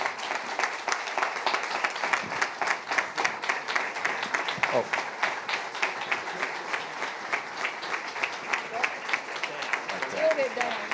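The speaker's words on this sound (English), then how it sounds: "Let's just have a round of applause for Angie." A round of applause at a city council work session, rhythmic clapping from a room of people lasting around eleven seconds, with scattered voices and a brief exclamation over it.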